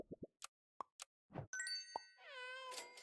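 Cartoonish Ghost Kitten meow from the video game Super Auto Pets, heard among quick game plops and dings, then a bright rising chime effect; short, clean and isolated with no talk.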